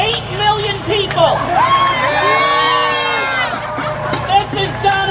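Outdoor protest rally crowd outside the White House in Washington, D.C., roaring with sustained cheers, whoops and high shouts, a dense wall of voices that swells in the middle and stays loud throughout.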